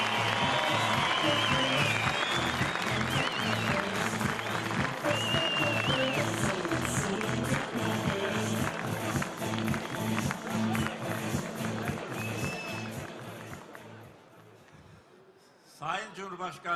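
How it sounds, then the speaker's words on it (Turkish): At the Teknofest technology festival, a large crowd greets the President of Azerbaijan with loud, sustained clapping that holds steady and then tapers off toward the end. "şimdi konuşmalarını yapmak üzere kardeş ülkemiz Azerbaycan Cumhurbaşkanı Sayın İlham Aliyev'i alkışlarınızla kürsüye davet ediyorum"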